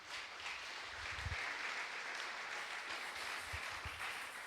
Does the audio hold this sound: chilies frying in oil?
no